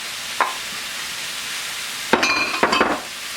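Spinach stir-frying in a wok with snow peas gives a steady soft sizzle, with a spatula scraping and clinking against the metal in a short cluster of strikes near the end.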